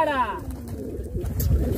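A pigeon coos close by, a soft rolling call, with a voice talking over it.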